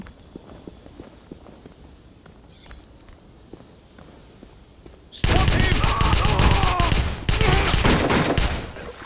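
Gunfire in the video game Wolfenstein 2009: a quiet stretch of footsteps gives way to loud, sustained bursts of rapid automatic shots that fill the last four seconds.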